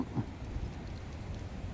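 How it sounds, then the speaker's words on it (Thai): Rain falls on a mountainside under dark, overcast skies, a soft, steady hiss that stays faint and continuous throughout, with no voices over it. "เสียง ฝนตกบนเขาก็เริ่มดังแล้วนะครับ ดังซ่าซ่าซ่าแล้วนะครับ"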